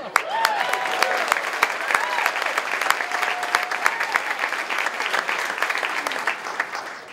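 An audience at an awards dinner applauds in a dense, steady wash of clapping that carries on throughout, with a few voices calling out over it.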